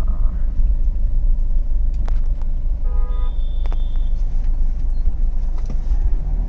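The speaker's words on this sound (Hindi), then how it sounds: "ये रही शायद ये वाली गाड़ी है।" A car engine rumbles at a residential housing society, a steady low drone with a few faint high tones. It is close and continuous, and no one speaks.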